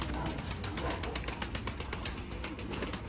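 Pigeons kept by a fancier in Pavlohrad, cooing softly and fairly faint amid a dense wash of background noise, with no clear voices over it.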